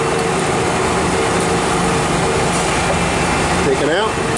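Royal Master Generation X guidewire grinding machine with cut-to-length loader running in a shop; a continuous mechanical drone with a brief whining sweep near the end, with someone talking over it.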